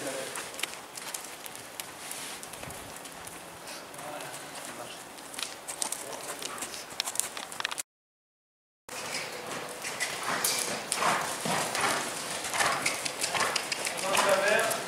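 A horse trots during a riding retraining exercise, its hooves clip-clopping in a steady rhythm on the ground, close by, with a short gap of silence midway and faint background noise.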